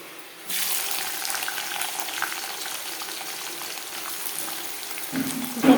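Chopped onion and garam masala sizzle in hot oil for goat curry, a steady broadband frying hiss that begins abruptly and holds, with a brief clatter near the end.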